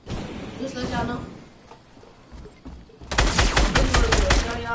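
Rapid automatic gunfire from a shooter video game erupts partway through and rattles loudly in dense bursts to the end, with voices talking during the quieter opening.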